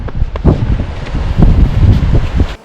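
Strong cold wind buffets the microphone at a lookout, a steady loud rumbling roar with gusts throughout and no voices.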